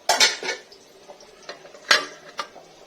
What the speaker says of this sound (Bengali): ঢেকে দিলে ভালো হবে না ঢেকে দিই